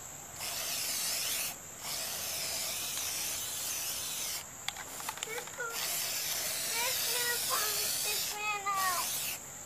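A spray paint can coats hubcaps in long, close hissing bursts separated by short pauses, with voices talking over the later spraying.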